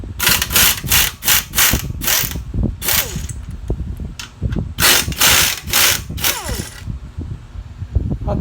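An impact wrench loosens the cylinder head bolts on an airplane tug's small engine, giving repeated loud, rattling bursts about a second long, separated by short pauses and light metallic handling.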